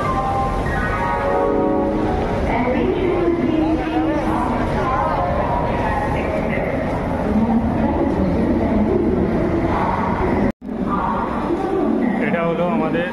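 A train standing at a railway station platform, the Mumbai Mail 12321, with steady rumbling station noise and mechanical clatter throughout, voices talking over it and a brief dropout near the end.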